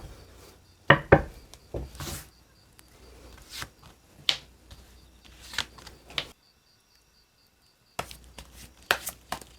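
Tarot cards are shuffled and drawn, giving scattered crisp snaps, flicks and soft taps close by, with a silent stretch partway through and more card handling afterward.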